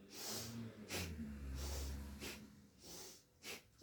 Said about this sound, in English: breathing in and out through the nose